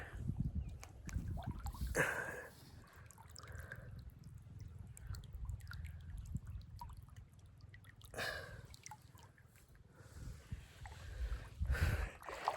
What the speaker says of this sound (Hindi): इसकी कलकल और छलछल को